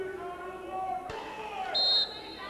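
A brief, loud electronic buzzer tone sounds inside a high school gym during a girls volleyball match at Los Altos High School, rising over crowd noise and announcer chatter.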